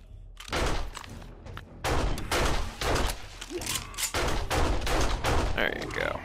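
Bursts of AK rifle fire in 7 Days to Die, loud and near, several clustered volleys separated by brief pauses, with a voice talking over parts of the shooting.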